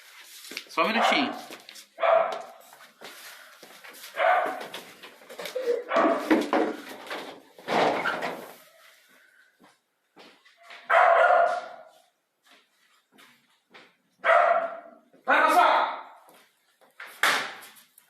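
A dog barks repeatedly nearby in irregular bursts across the stretch, with gaps and a few knocking sounds like a door or drawer in between.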